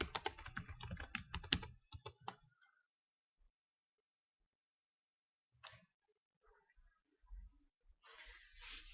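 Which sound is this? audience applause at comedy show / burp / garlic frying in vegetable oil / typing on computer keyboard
typing on computer keyboard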